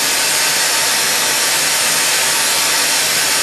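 A burner flame roars steadily against the foot of a glass goblet turning on a glass lathe, a continuous broadband hiss without breaks, close and fairly loud throughout.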